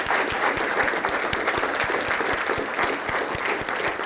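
A round of applause from a lecture audience, brisk overlapping claps with sharp individual hand strikes standing out over a dense crackle, steady and close for a few seconds.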